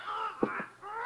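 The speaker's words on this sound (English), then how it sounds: "Senor Perez has many birds in his shop, senor." Birds squawk and screech in short, harsh bursts inside a shop, several overlapping calls close by with brief gaps between them.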